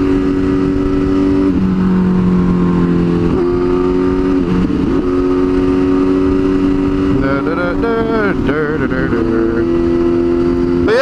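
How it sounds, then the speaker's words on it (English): A motorcycle engine revs hard and continuously while pulling a wheelie uphill, loud and close, with shifting rev pitches and a sharp rise and fall of revs near the end. "Doing a wheelie uphill is always fun,"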